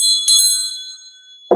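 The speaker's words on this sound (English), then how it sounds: "We'll call in spirit with a little bit of wind chime time." Metallic wind chime tones ring out for a ritual-style spirit call, a bright cluster of struck notes that swells near the start and then lingers as a long, fading shimmer before a brief thump at the end.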